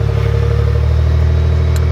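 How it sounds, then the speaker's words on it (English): A 2020 Ford Expedition engine, started by remote key fob, idles loud and close with a steady, even low hum and no voices. "So we'll just turn it on quickly so you guys can hear what this one sounds like."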